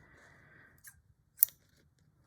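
Scissors cutting embroidery ribbon up close: a quiet slide of the blades, then two crisp snips, the second sharper and louder, in a quiet room.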